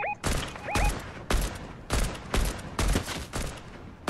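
Gunfire in a Fortnite squads match: a series of loud, sharp shots in irregular bursts, some doubled, with short electronic tones near the start.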